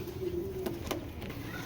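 A giribaz pigeon gives a soft, low coo close by, followed by a couple of faint clicks over quiet background noise.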